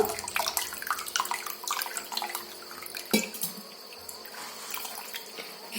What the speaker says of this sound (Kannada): ಇದ್ರ ಮೇಲ್ಗಡೆನೂ ಸ್ವಲ್ಪ ತಣ್ಣೀರು ಹಾಕೋಬೋದು